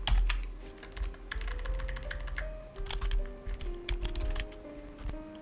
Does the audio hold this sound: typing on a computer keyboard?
yes